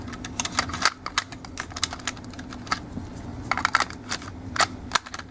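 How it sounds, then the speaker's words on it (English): Plastic cassette tapes being pushed into the compartment of a Masterpiece MP-13 Soundwave transforming toy, making rapid, close clicks and clacks in an irregular clattering run. "And then what you're going to do is put all the tapes in"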